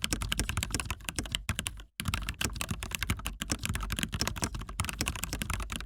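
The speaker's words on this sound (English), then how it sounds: "the typing test. Let's see how these keys sound." Rapid, steady typing on a Dustsilver D84 kawaii mechanical keyboard, dense clacky keystrokes heard up close and alone, with one brief pause partway through.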